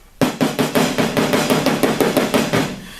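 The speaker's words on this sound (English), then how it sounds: "Notice how when I tap it, I'm very, very light with my tapping." A light body hammer and pick tap rapidly on car body sheet metal during dent repair, a quick, even run of sharp metallic taps close by, with no talking.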